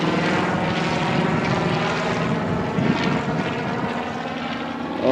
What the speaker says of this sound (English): Oh, that's like one of the low country tour helicopters.